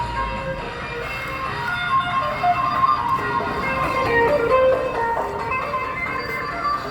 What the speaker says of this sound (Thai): เจอรถขายของมาพอดีเลย